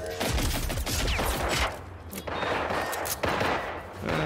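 Rapid gunfire in the video game Generation Zero, dense bursts of overlapping shots with sharp cracks and a brief lull partway through, loud and close throughout.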